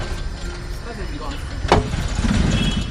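An auto rickshaw engine is kick-started on a Mumbai street: a sharp mechanical clunk, then a rough engine rumble swelling up, heard close and loud amid steady background noise.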